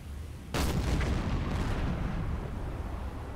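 A submarine deck gun fires at a ship in Silent Hunter 4, one heavy boom that hits abruptly and then rolls on as a deep, sustained rumble.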